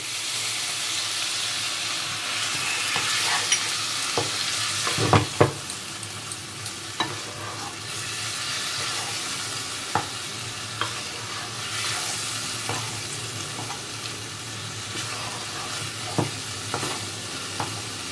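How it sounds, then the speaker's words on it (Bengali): Chicken being stir-fried (kosha) in a pan for Bengali-style chicken ghanto, a steady quiet sizzle broken by occasional sharp scrapes and stirring clatters of the spoon. "চিকেনটাকে সুন্দর করে আমি কষে নেব"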